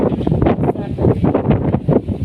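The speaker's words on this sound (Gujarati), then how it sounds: "અંધારું એટલું કર્યું છે ને પવન પણ એટલું છે।" Strong storm wind roars and buffets the microphone in gusts under a darkened afternoon sky, loud and continuous with rumbling low-end bursts throughout.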